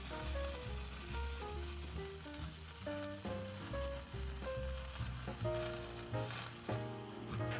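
Oysters topped with garlic sauce and oil sizzle and flare on a charcoal grill, a continuous hiss heard beneath steady melodic background music.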